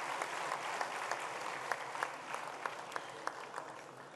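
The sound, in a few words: audience applause as guests come onto the stage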